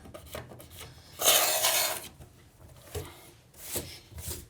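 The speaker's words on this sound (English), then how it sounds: "This will just trim the last little bit of silicone off of the stone." Metal blade scraping leftover silicone caulk off a stone bathtub edge, a close raspy scrape about a second long followed by a few shorter, fainter scrapes and taps.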